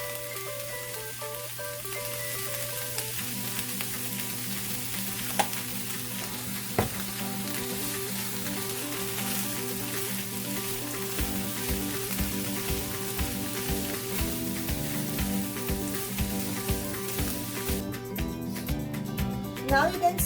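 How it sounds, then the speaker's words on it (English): Vegetable green Thai curry bubbles at a steady boil in a pan, a continuous close-up simmering sizzle that thickens in texture toward the end, with a faint tonal background underneath. "Now you can see the boil has come and the consistency is becoming a little thicker."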